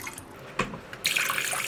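Filtered water gushes from a kitchen tap, starting with a brief clunk before a steady close hiss of running water, with no speech.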